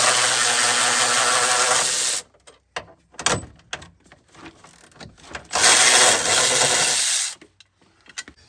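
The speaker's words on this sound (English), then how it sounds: "let's take our 14mm socket and remove the 2 bolts that hold the bracket on for the seatbelt" Two long bursts of loud, rasping ratcheting as a 14mm socket wrench backs out the two bolts holding a seatbelt bracket in a Nissan Titan. Scattered clicks and clunks fall between the bursts, close up, with no talk.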